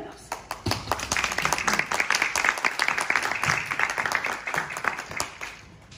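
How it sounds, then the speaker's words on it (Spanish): An audience at a Chilean Theatre Day event at USACH, marking 40 years of Teatro del Riel, applauds for a professor, a close, busy patter of clapping that swells and then tapers, with voices mixed in. "Un aplauso."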